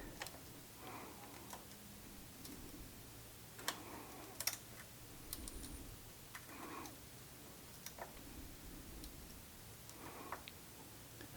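Quiet, evenly spaced clicks from a suspension adjuster being turned by hand on an electric dirt bike (Husqvarna EE 5 / KTM SX-E 5 / GasGas MC-E 5), heard close and alone against a faint background.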